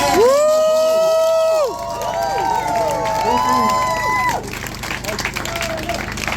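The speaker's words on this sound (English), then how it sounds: "Can we all give a huge, huge round of applause for Benny from the community?" A crowd at a community event supporting migrants in Orlando cheers and shouts loudly, with whoops and voices rising over scattered applause and clapping, then fading toward a softer murmur.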